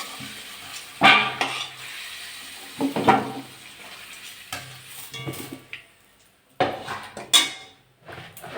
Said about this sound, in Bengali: ভালো করে ভেজে নেব আলুগুলো